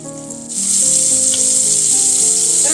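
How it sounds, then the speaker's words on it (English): Pork chops browning in a hot pan give a loud, steady sizzle that swells after a quieter start and holds dense and close, with no voices. "my pork chops are browning nicely for about 2 minutes, and I'm turning them over"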